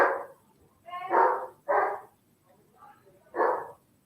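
A dog at a relative's home barks repeatedly, with four separate sharp barks spaced about a second apart, close and clear against a quiet background.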